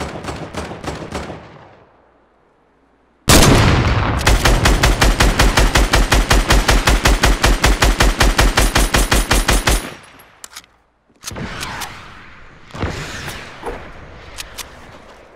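Rapid automatic gunfire from enemies in a first-person shooter game, a loud sustained burst of evenly spaced shots lasting several seconds, followed by scattered sharper reports and softer game noise.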